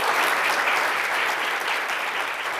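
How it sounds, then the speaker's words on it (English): Conference audience applauding panelists at a high-level panel event, a dense, steady round of clapping from many hands filling the room throughout. "Please join me once again in giving a round of applause for our panelists."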